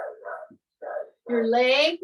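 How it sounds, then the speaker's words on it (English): Dogs barking in short bursts in a home, followed by a longer whining, yelping cry, moderately near, with a person talking over them. "Sorry about the dogs."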